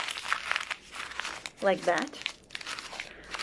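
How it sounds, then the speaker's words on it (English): A used sheet of paper is crumpled into a ball by hand, giving close, crackling bursts of crinkling that come and go while a person keeps talking. "I'm just gonna crumple it up"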